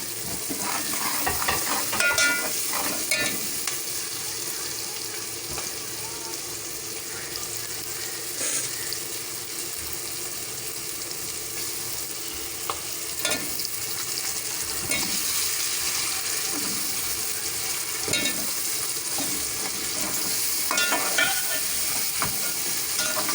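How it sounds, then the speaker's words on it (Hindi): Potatoes for aloo tahari fry in a pan, a continuous close sizzle with intermittent scraping as a utensil stirs them, no voices over the long stretch. "आलू डाल रही हूँ इसमें।"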